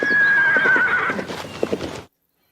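A horse in stables gives a loud, close whinny that wavers and fades, accompanied by a few hoof clip-clops before the sound cuts off abruptly.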